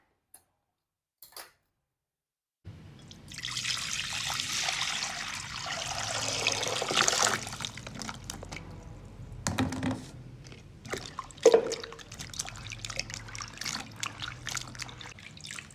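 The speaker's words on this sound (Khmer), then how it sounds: "ឥឡូវយើងបេះក្បាលវាស្អាតហើយយើងចាក់ទឹកមកលាងណា" Water pours and trickles over freshly trimmed chillies as they are rinsed. After a quiet start there is a soft, close splashing run that thins into faint drips and small knocks.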